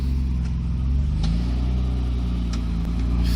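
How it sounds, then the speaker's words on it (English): A BMW car pulling away at a car social event, engine note rising and holding as a steady loud rumble up close, with faint clicks and rattles from the surroundings. "Oh, the BMW is just departing."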